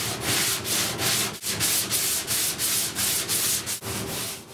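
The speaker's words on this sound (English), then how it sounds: "I sand everything down to that 4-ounce weave." Hand sanding a fibreglass surfboard down to its 4-ounce weave, close and loud rhythmic rasping strokes repeating about three per second, with two brief pauses.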